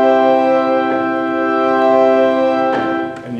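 A pipe organ's swell division on a tracker instrument sustains a steady, muted chord with the shutters closed, a soft shift midway and a short release near the end, heard alone.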